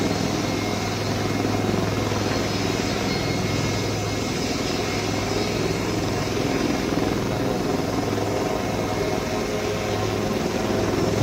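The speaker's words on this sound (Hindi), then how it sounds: "देश में विकसित हल्के लड़ाकू हेलीकॉप्टर के पहले जत्थे को शामिल कर लिया गया है" Indian-made light combat helicopter of the Indian Air Force, a loud, steady rotor and turbine roar that stays constant throughout, with no voices.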